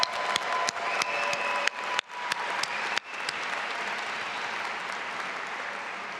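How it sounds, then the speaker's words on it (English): Audience at a Duke MBA graduation ceremony applauding, dense clapping from a large crowd with a few sharp, close claps up front, then settling into an even, sustained wash of applause. "let's give a round of applause to everybody who made today possible"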